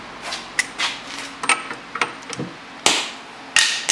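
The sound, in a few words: screwdriver falling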